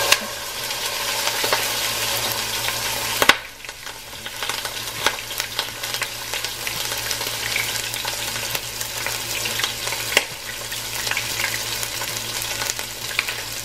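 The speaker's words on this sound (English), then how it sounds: "let us take a quick pause from this chit chat for some chicken frying sounds" Chicken fries in a pan with a continuous close sizzle and crackle, briefly interrupted by a stir or a shift of the pieces, then bubbling steadily on.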